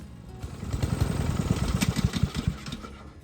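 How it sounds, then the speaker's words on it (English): A Honda IZY lawn mower engine runs steadily to burn the last fuel out of its carburetor, a close, loud chugging idle with a regular beat and no talk. "start your lawnmower up and allow that last little bit of fuel in the carburetor to burn off"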